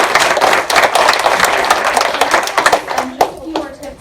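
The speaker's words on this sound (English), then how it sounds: "Let's give them a round of applause." A crowd claps in applause for speakers at a 2018 panel discussion, a dense burst of hand claps that tapers off toward the end, with a few scattered claps and faint murmurs left.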